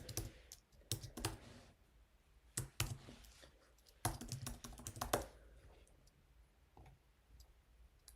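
Email address being typed on a computer keyboard: quick clusters of crisp key clicks in short bursts, close and isolated, tapering into faint scattered taps near the end.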